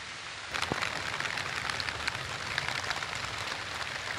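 Heavy early-morning rain falls in a steady broadband hiss, with scattered drops pattering on nearby surfaces, continuous and fairly close.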